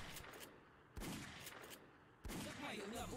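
Real gunshots fired outdoors, separate from a Project Zomboid game session: two sharp loud reports about a second apart, each followed by a long ringing tail over a noisy background, with faint talk underneath.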